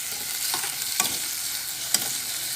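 Chopped bell pepper and onion fry in a pan with a slightly scorched bottom, a constant sizzle broken by a few sharp clicks of stirring against the pan.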